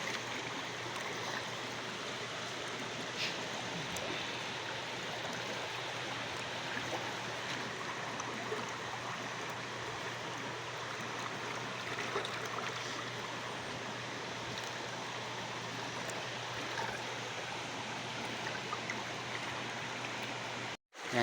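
A river flowing beside a vegetable-gathering spot, a steady broad rush of water held at a moderate, even level with a faint low hum underneath, ending abruptly.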